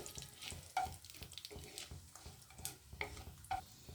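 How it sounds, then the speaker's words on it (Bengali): Panch phoron spices sizzling in hot mustard oil in a pan, a quiet crackling fry with scattered pops and soft stirring scrapes recurring every half second or so. "তেলটা গরম হয়ে গেছে, এর মধ্যে দিয়ে দিলাম 5 ফোড়ন।"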